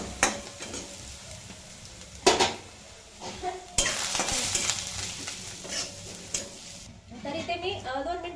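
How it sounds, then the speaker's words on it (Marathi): Ground spice paste with garlic for a spinach dish sizzles in a pan, broken by metal spoon scrapes and clinks against the cookware, close and fairly loud, with brief speech in places. "छान असं हे वाटण परतून घेतले"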